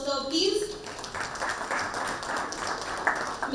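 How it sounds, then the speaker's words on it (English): An audience at a climate-smart water security conference session breaks into a round of applause after a brief voice, with steady, dense clapping continuing at moderate distance to the end. "Can we have a huge round of applause for sir, please?"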